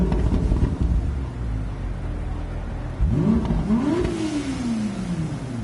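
A Porsche engine revs up and down in Gran Turismo 7, rising in pitch twice over a steady low idle hum, close and clear, with no talking.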